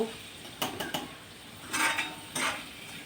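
Metal spoon scraping and clinking in a small hot cheenachatti pan while something sautés in oil, a few sharp clatters spaced across a quiet background.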